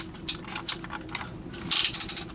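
Ratcheted joints on a Mastermind Creations Tortor (Tesarus) action figure are worked by hand, giving a series of small, close plastic clicks in short bursts, ending in a quick rapid ratcheting run.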